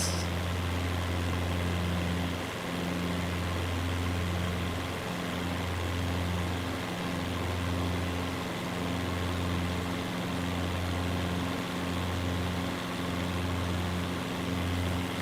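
Aircraft engine in Microsoft Flight Simulator during a California city tour, a steady low drone with regular pulsing throbs every second or so, constant and close with no talking.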